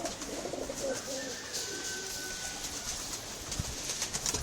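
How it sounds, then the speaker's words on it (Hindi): Pigeons coo in low, throaty warbles close by, with a faint whistle and light rustling around them. "कबूतर है"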